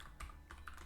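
Quick keystrokes on a computer keyboard while entering code, a few soft clicks in under a second, faint and close.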